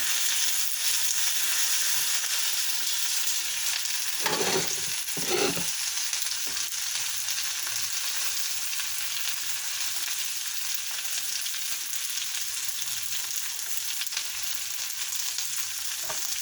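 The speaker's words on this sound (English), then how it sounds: "Cook the spinach, you just turn it over and get it into the oil or get it onto the hot pan." Spinach fries in oil in a hot pan with a steady, close sizzle that fills the whole stretch. A couple of louder bursts of hiss and scraping come as the leaves are turned over.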